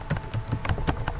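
Rapid, uneven clicking of computer keys as someone types code into a Python spreadsheet script, close and fairly loud, with bursts of keystrokes and no talking.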